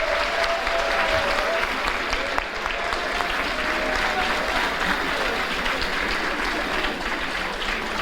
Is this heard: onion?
no